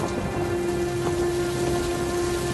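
Heavy rain pours steadily during a storm, a dense unbroken hiss of drops on surfaces with a constant tone running beneath, and no voices.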